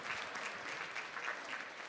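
An audience at a public ceremony in New York City applauds Leslie, dense sustained clapping from a sizable crowd, steady and even throughout.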